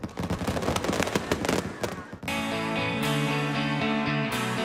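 Rapid crackling bursts and pops of fireworks over the Magic Kingdom at Walt Disney World fill the first couple of seconds loudly, giving way to sustained orchestral music.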